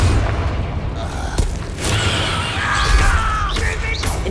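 Confringo explosive spell in Hogwarts Legacy, sharp booming blasts and crashing impacts in a busy duel, with spoken voices mixed in.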